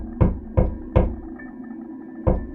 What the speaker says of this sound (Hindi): एक भूत एक औरत के रूप में गुप्ता के घर का दरवाज़ा बजाता है।